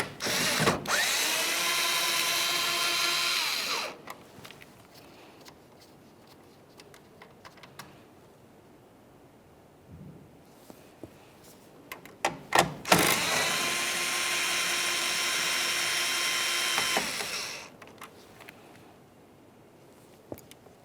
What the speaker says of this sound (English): Now we can remove our two 8mm headed mounting nuts.